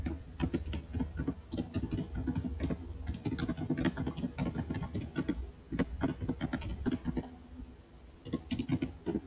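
Rapid, irregular keystrokes on a computer keyboard entering a Cisco switch configuration command, close and clear, with dense clusters of clicks running steadily throughout.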